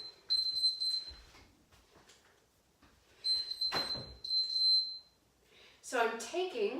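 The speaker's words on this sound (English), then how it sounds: "we'll get a series of beeps" A workout interval timer gives several high electronic beeps in two short clusters, separated by quieter stretches with a thump, and a voice speaks near the end.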